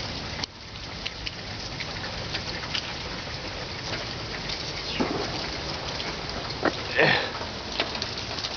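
Steady rain falls during a thunderstorm, a constant wash with brief louder crackles and a faint rumble of thunder near the end.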